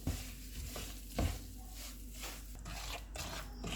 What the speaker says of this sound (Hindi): सूजी को हम भूनेंगे